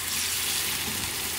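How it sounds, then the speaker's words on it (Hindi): Meat broth water poured into a cooking pot for beef nihari, a steady close hiss and splash of liquid, continuous and fairly loud throughout the short stretch, with no talking. "ये आपने सारा पानी इसमें डाल देना है"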